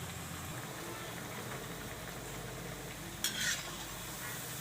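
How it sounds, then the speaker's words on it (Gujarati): Mamra medu vada (puffed rice fritters) frying in oil on a low flame until golden brown, giving a steady soft sizzle with a brief brighter burst of crackle near the end, no talking. "જો આ રીતે આપણે ગોલ્ડન બ્રાઉન જેવા થઈ જાય ત્યાં લગી આપણે એને સડવા દેવાના, પણ ધીમે ગેસે હાવ સડવા દેવાના."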